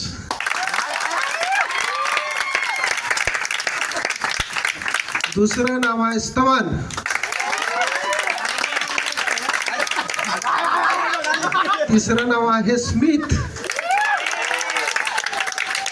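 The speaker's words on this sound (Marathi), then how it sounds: "नावाबरोबर टाळ्या झाल्या पाहिजेत तुमच्या" An audience claps continuously for each name read out at a ceremony, a steady crowd patter running beneath a voice announcing the names.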